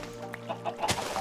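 Minecraft chickens cluck in short, soft bursts over a steady low background hum, fairly faint and brief, with no voices.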